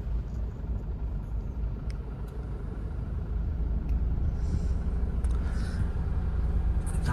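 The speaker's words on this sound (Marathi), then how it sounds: "कधीपासून अर्धा तास झाला ट्रॅफिक मध्ये अटकलं" Steady road traffic rumble in a stalled traffic jam in Mumbai near Andheri and Borivali, with car and heavy vehicle engines idling nearby, a continuous low drone that grows slightly louder midway with no talk.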